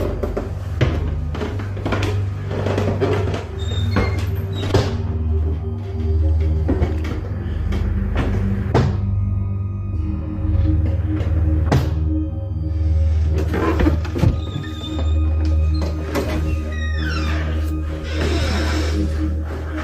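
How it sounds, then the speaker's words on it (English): A door in a house swings open and shut by itself, giving a few soft thunks and creaks against a steady low indoor hum, with no one talking. "the door appears to move on its own, opening and closing with no one on the other side"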